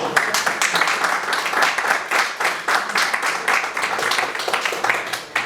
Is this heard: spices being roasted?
no